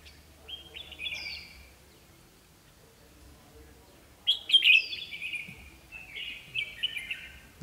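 Red-whiskered bulbuls sing during an outdoor bird trapping session, with bright warbling phrases near the start and a louder, longer run of song in the second half, set against quiet background.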